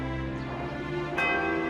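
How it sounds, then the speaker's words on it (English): A giant cartoon bell rings with one deep, sustained toll whose tone lingers throughout, and a second strike lands partway through over the ringing. "the first sound of that giant bell started to echo in the country"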